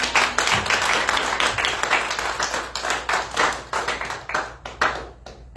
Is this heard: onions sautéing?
no